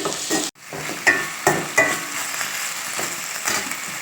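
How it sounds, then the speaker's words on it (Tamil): Onions sizzle and fry in a pan, with occasional scraping and clattering stirs punctuating the steady crackle. "வெங்காயம் இதுக்கு மேலே வதக்கக்கூடாது."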